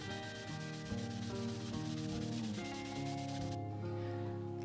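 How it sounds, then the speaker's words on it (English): An acoustic guitar body being polished by hand with polishing compound, a quiet, rhythmic rubbing swish repeating steadily, close and soft with no voices. "I'm going to polish this guitar by hand"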